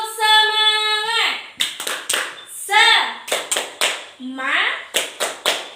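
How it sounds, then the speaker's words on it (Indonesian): Children chant a rhythmic spirit cheer, their voices alternating with short, sharp bursts of hand claps in a repeating pattern of sung syllables followed by clap groups, close and clear. "Oke, coba tepuk semangat."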